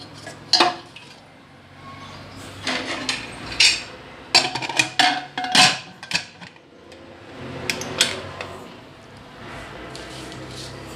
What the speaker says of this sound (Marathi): आता आपण ती कुकरला लावून घेऊया